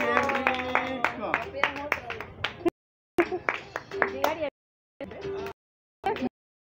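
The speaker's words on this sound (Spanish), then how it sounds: "¡Ya aplaude!" Sharp, rhythmic hand claps ring out alongside singing and tuneful voices, in bursts broken by short silent gaps.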